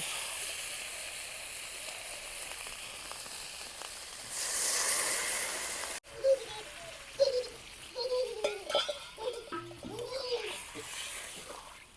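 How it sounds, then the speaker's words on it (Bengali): Water poured into a hot pan of potatoes and eggplant for a river-fish curry, setting off a brief, bright sizzling hiss over low kitchen noise, followed by voices talking. "এখন ঝুলের জন্য জল দিয়ে দিব"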